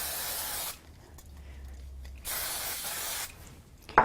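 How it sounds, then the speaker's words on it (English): Two bursts of spray glue hiss onto the back of a card, close and fairly loud, separated by a quieter gap, ending with a brief sharp tap. "I'm going to use a little bit of spray glue on the back of this."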